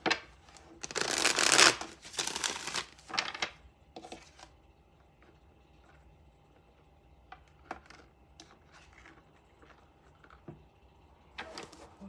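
Tarot cards being shuffled for a weekly collective reading, a loud riffling burst over the first few seconds followed by softer scattered taps and card flicks in a quiet room.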